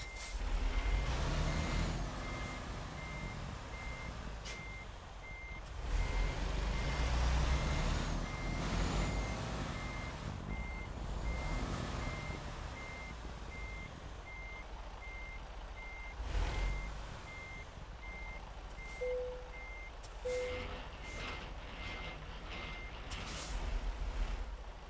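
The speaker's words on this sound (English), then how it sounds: "Now I gotta back up and get that trailer." Steady reversing beeps of a truck in a holiday trucking video game, a regular pulse running throughout under a low engine rumble, with occasional hissing air brake releases, no talk.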